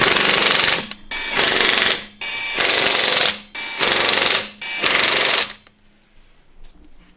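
Five loud bursts from an impact wrench torquing a supercharged Mustang's wheel lug nuts to 80 foot-pounds, each rattling hammer burst about a second long with short pauses, then quiet.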